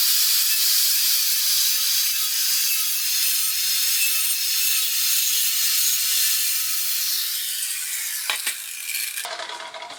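MAG welding while tacking a butt joint on steel plate, a loud continuous crackling hiss that holds steady, then breaks off near the end with a couple of brief clicks.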